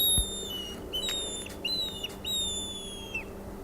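A plain wooden stick whistle blown to mimic a bird call, maybe an eagle's cry: several thin, high whistled tones gliding and repeating over a few seconds, fairly faint against a low background hum.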